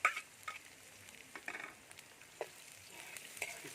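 Onion sizzles softly in a pan as it fries for arroz caldo, with a low continuous crackle broken by scattered clicks and scrapes of stirring.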